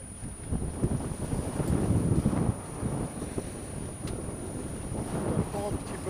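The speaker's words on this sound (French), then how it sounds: "une grosse mer, une mer puissante qui nous freine pas mal" A sailboat under motor pushes into a heavy, powerful sea against a headwind, with constant wind buffeting the microphone and surging water and hull noise rising and falling throughout.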